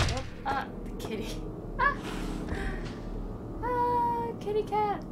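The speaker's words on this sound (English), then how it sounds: "Kitty cat." A cat meows several times in the Little Hope video game, short rising and falling cries spread through the stretch over a low game soundtrack, with a person murmuring briefly.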